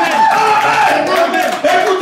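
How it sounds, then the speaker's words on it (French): A church congregation cheering and applauding in praise of the Lord, a loud dense crowd roar with shouts and clapping that fills the whole moment, voices mixed into the din. "Acclamons très très fort notre Seigneur."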